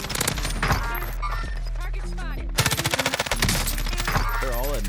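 Rapid bursts of automatic gunfire from M13 and MP7 weapons in a Modern Warfare Call of Duty match, crackling in fast volleys amid game music and effects, with a brief pause midway before firing resumes.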